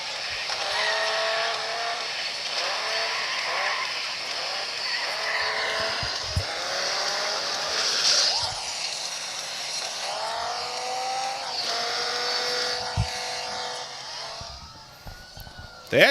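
Car racing sounds from the Need for Speed game played through the stereo speakers of a Blackview Shark 9 phone: continuous revving engines with rising and falling pitch, tire squeals and impact thuds, with game music mixed in.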